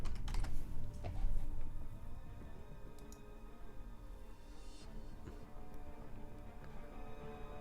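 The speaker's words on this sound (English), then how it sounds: "Let's type in gaming arena." Fast typing on a computer keyboard, close clicky keystrokes in quick runs, busiest at the start and then lighter and more scattered taps over a low background rumble.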